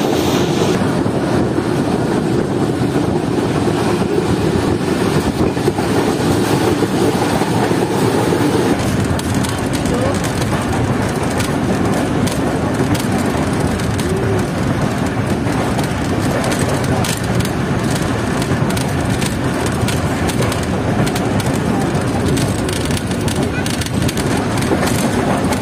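The Pak Business Express passenger train runs at speed between Karachi and Lahore, a continuous loud rumble with wind buffeting the microphone, as if heard from a window or doorway, with no break throughout.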